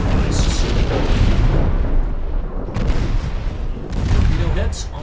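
Torpedo hits and explosions striking an enemy battleship in the naval game Ultimate Admiral Dreadnoughts, loud booming blasts rolling in overlapping waves with a brief dip midway before another heavy surge.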